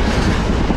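A Sri Lankan diesel train rolls along with a steady, loud rumble of wheels on rails, heard close up from on board, with no voices.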